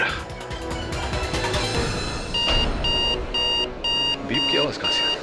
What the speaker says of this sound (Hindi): बीप की आवाज कहां से आ रही है?